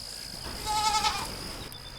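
A goat at a farm in Blaine, Grainger County, Tennessee gives one short, wavering bleat close by, set against a quiet background with a faint steady tone.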